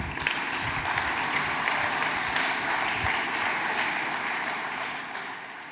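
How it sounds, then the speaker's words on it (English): Sustained audience applause at a school graduation and achievers ceremony, greeting a guest speaker, a steady dense wash of many hands clapping throughout that eases slightly toward the end. "with a round of applause, our guest speaker for the ceremony is Ms. Constance Swanica"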